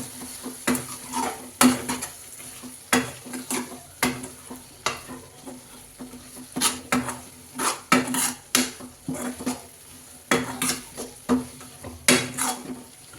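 Peas chaat being mixed in a pan on the stove, a spoon scraping and clinking against the metal in a steady series of stirring strokes with a faint sizzle underneath, close and fairly quiet.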